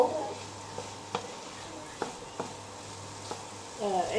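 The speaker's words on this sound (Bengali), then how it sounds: "বেশি নাড়াচাড়া করবো না অল্প" Taro curry with black cumin being stirred in a pan, a low steady sizzle under a few soft scraping strokes of the spoon, fairly quiet and close.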